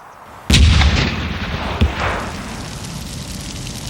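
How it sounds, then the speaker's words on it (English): A car bomb goes off in a controlled explosion with one loud, sharp boom and a rumbling tail. A second, smaller crack follows just over a second later, then the noise dies away slowly. "The Army had to resort to controlled explosions, which sometimes set off the whole bomb."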